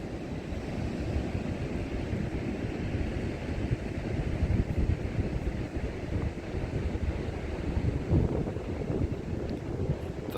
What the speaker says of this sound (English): I'm sure you can hear it's a little windy.